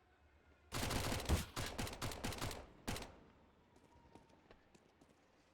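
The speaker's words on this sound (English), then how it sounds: "Tapping away with the Mac 10." Mac 10 fired in quick taps in a video game: a close, sharp cluster of rapid shots over about two seconds, a lone shot after a short pause, then faint distant pops and quiet background.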